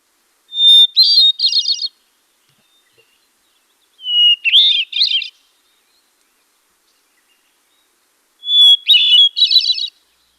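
Three separate phrases of a hermit thrush's song, each a clear held opening note followed by a fluttering, flute-like trill, with silence between them.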